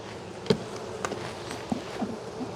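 Honey bees buzzing at an opened hive during a split inspection, a close, steady drone with small knocks and taps of frames scattered through it.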